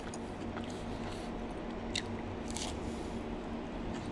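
Close, crisp crunching as lotus root is bitten and chewed, with a few sharper crackles standing out over a low steady background hum.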